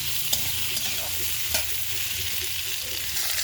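Green beans frying and being stirred in a pan for a curry with potato, peas and lentil dumplings, a steady close sizzle with a few soft scraping clicks of the spoon and no talk.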